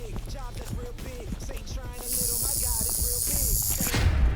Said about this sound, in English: I'm gonna play a fake rattlesnake sound.